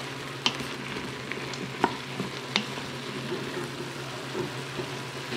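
Stew meat with parsley and mushrooms stirred in an Instant Pot: a soft low sizzle with a few sharp spoon taps and scrapes against the pot, fairly quiet and close.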